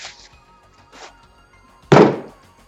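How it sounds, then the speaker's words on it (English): A single firework bursts outside, a sharp loud thump followed by a short fading rumble, after a couple of faint earlier pops in a quiet room. "I hear people shooting off fireworks."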